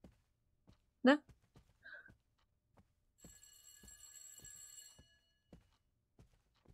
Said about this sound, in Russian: Звонит телефон где-то.